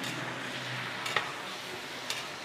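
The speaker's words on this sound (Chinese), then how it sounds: "把猪蹄炒香啊" Pig trotters stir-fried in a wok with vinegar, ginger, garlic, chillies, Sichuan pepper, star anise and soy sauces give a steady, moderate sizzle throughout, with a couple of sharp clinks of the spatula against the pan.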